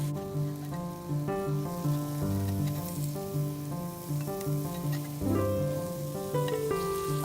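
85-15 hamburger patties sizzle on a Lodge Sportsman cast iron charcoal grill, a close, continuous crackling hiss with scattered pops, no talking over it.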